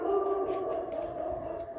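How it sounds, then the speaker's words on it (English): Dogs bark and howl steadily in the background, drawn-out calls layered over one another at moderate distance, with no talk. "Bark, bark. My dogs are barking."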